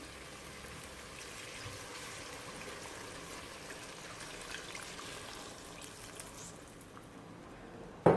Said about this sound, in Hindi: अब हम ऐड कर देंगे इसके अंदर पानी